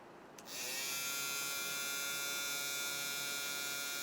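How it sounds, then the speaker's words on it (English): A Royal Clips Fade Kit 2.0 electric shaver starts up after a brief pause and holds a bright, even, close-up buzz for several seconds, alone without speech. "And here's a shaver."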